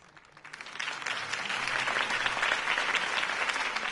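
A crowd applauds a campaign speech by Harvey Dent in the Telltale Batman game, the dense clapping swelling in after a quiet start and holding steady and loud to the end.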